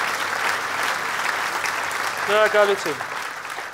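Steady audience applause fills the room throughout, with a voice briefly speaking over it near the end.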